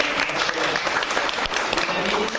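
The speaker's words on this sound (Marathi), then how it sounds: "आपण सगळ्यांनी टाळ्या वाजवून" Audience applause at a school reunion get-together fills the hall as a dense, steady patter of clapping, with a speaker's voice carrying over it.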